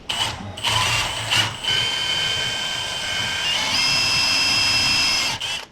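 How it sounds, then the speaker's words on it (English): Power drill boring quarter-inch holes into wood during a product install, a loud, close, high-pitched whine that holds steady in bursts, with brief pauses and restarts between holes. "you're going to go ahead and drill the holes out"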